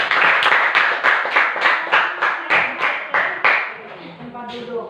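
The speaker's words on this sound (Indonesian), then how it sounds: "Terima kasih semua, tepuk tangan." Classroom applause at a teacher-training lesson, with rhythmic group clapping in about ten loud, even bursts that fade out near the end as voices take over.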